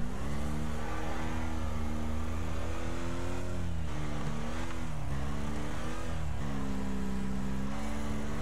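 Race car engines in Wreckfest howl continuously, with one engine close and loud and others nearby shifting pitch as they rev and ease off.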